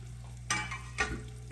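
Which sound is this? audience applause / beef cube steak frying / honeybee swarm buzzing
beef cube steak frying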